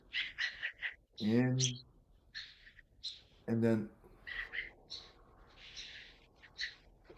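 Birds call outdoors in faint, scattered chirps and squawks, heard under the close, calm voice of a man guiding a breathing meditation.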